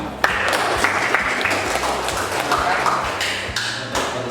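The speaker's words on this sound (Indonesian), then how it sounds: "Beri aplaus buat kita semua." Audience applause fills the room at a school group presentation, steady clapping with a few sharper taps and thumps mixed in, fairly loud and close, lasting the whole stretch without talk.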